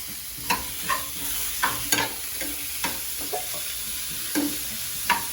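Onions sauté with salt in a pan for fish gravy, quietly sizzling while a spoon scrapes and taps the pan in a loose, repeated rhythm.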